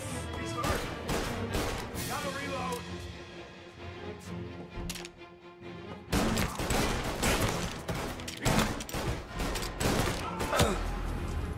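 Sustained bursts of gunfire and crashing impacts in Mafia: Definitive Edition, dense and loud throughout with a brief lull in the middle before the shooting picks up again.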